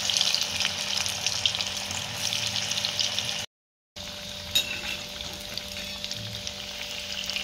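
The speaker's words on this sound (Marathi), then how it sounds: "कढईमध्ये मावतील तेवढ्या आपल्याला वड्या यामध्ये सोडून घ्यायच्या।" Layered vadi pieces fry in hot oil in a kadhai over a medium gas flame, giving a steady, close, dense sizzle and crackle that breaks off briefly for about half a second, then continues as before.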